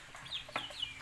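Young chickens about two months old cluck and chirp on a farm, several short calls in quick succession at moderate loudness, with no one talking.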